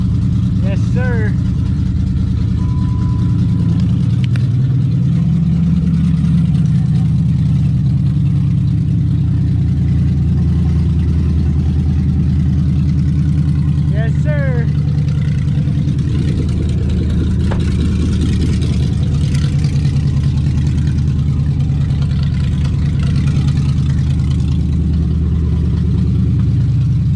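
Dodge Magnum car engine running, a loud continuous low rumble with slight changes in pitch through the whole stretch, with faint chirps and knocks, and voices talking over it at times.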